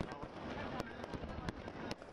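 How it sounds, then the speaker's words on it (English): Fireworks burst over a Gurudwara during a festive night celebration, with sharp scattered pops and crackles under steady spoken narration. "fireworks."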